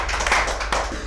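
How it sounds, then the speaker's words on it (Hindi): A short burst of audience applause welcomes a poet at a Hindi poetry gathering, with a few close, sharp claps over about a second. "जोरदार तालियों से स्वागत।"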